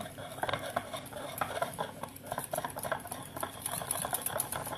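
A chocolate soufflé mixture stirred in a bowl, with quick, irregular taps and scrapes of a utensil against the bowl, close and fairly soft.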